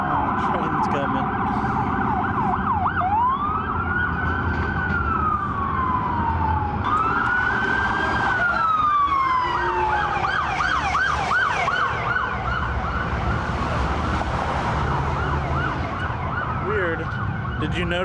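Police car sirens at night in Arizona, several overlapping wailing sweeps rising and falling for the whole stretch over steady road and engine rumble, fairly close and loud.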